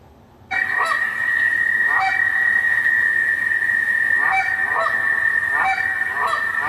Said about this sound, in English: So here is a quick sound file of the honk.